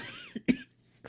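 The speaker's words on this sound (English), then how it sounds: "I'm trying not to cough." A single short cough, with a small throat sound just before it, at close range in a quiet room during a paper-crafting session punching tiny daisies from leftover die-cut scraps.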